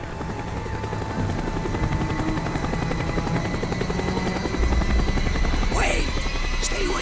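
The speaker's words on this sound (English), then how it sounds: "The chopper is coming around again." A helicopter in the video game Call of Duty: Black Ops keeps up a steady, close rotor chop throughout, with bursts of gunfire and other game effects mixed in.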